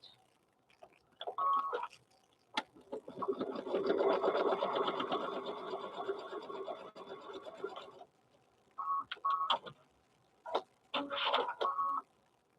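A sewing machine stitches a seam on a handmade stuffed bear, running in a steady whirring burst of several seconds, with shorter stop-start bursts and handling clicks before and after.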